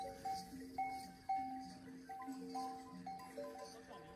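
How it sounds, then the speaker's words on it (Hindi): Sheep in the Cholistan desert countryside bleat faintly and repeatedly, several thin, sustained calls rising and falling from a flock at a distance, with no talk over them. "ये भेड़ा हैं जी ये रोही दी भेड़ा हो गई"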